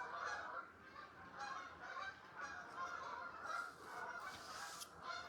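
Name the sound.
geese honking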